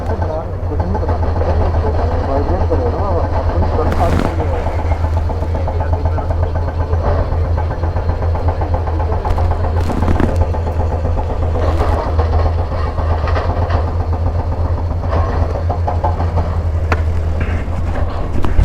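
A Royal Enfield motorcycle idles on a mountain road trip from Pithoragarh to Gunji, giving a steady, loud low-frequency thump throughout. People talk over the engine.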